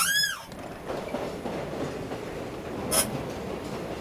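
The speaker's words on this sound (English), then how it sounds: "The train passed Sasha very calmly" A toy train rolls along model railroad tracks with a steady rattling rumble, a brief squeal of wheels near the start and a short bright screech near the end, with no talking.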